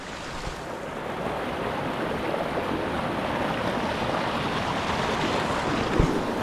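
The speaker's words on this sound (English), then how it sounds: "Here's the river. It's pretty loud." A loud river rushing below a steep trail in the American bush, a continuous dense roar of water that holds steady throughout, close by, with no voices over it.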